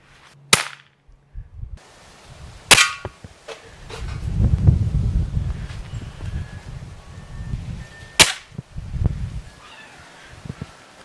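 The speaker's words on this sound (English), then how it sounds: "Shot 1, Daisy 880, Crossman Gold Flight" A Daisy 880 air rifle fires Crosman Gold Flight pellets, giving three sharp, isolated cracks spaced several seconds apart, with low rumbling handling noise in between.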